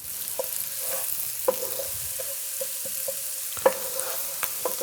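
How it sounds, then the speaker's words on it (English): Chopped onion sautés in a pan with a steady low sizzle, broken by several soft clinks and scrapes of stirring, heard close and alone with no talking. "we're going to do is just saute this until this onion is a little soft and golden."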